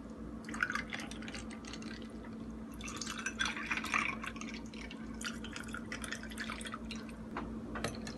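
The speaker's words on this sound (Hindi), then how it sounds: "और अब डालेंगे इसमें पानी।" Water trickles and drips steadily into a glass of aam panna for several seconds. The pour is quiet and continuous, with small splashes and droplets throughout.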